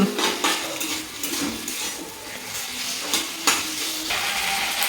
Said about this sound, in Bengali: এবার এখানে অ্যাড করা হচ্ছে আদা আর রসুনের পেস্ট, 2 চামচ মতো অ্যাড করা হলো। তাকে এবার করা হচ্ছে মিক্সিং।